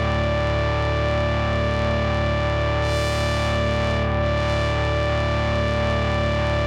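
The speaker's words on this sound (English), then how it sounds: "this is the little gain switch. Just makes it raunchier" A raunchy, heavily distorted synth drone from an AJH MiniMOD modular setup with its gain switch engaged, a dense buzzing harmonic tone held steadily and loudly throughout, with a brief brighter swell in the middle.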